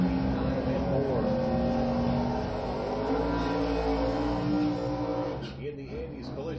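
A Nova drag racing car roars steadily down the lane at a drag strip, its engine drone sustained and fairly distant, fading near the end while an announcer talks over it.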